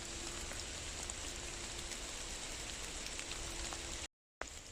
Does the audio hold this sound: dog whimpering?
no